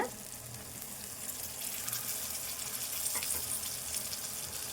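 Brinjal curry cooks in a pan with a steady, close sizzling hiss that holds evenly throughout, with a few faint clicks over it.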